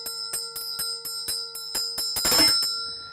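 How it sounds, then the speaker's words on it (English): Tibetan ritual bell struck in a steady run of about ten clear, ringing strikes with sustained tones, quickening into a dense shimmering roll near the end before fading out. "as we play the sound of the bell, we imagine, we visualize all these holy beings coming"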